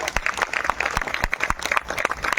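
A small Women's Day audience claps in a brief, uneven burst, individual hand claps distinct and fairly close, spread across the moment without speech.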